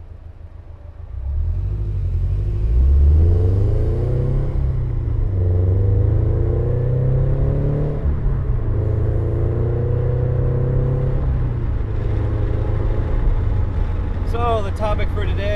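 Scion FR-S sports car with a new exhaust gives a deep, loud, close engine rumble that swells as it revs and holds a steady drone, with a brief voice near the end.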